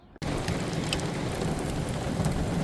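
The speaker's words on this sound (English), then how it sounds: "Actually, the rain came back, so this is not nearly as heavy as it was a little bit ago, but it is pretty close." Rain pours down outdoors, a dense, steady hiss that starts abruptly and stays loud and close throughout, during a stop to buy lumber.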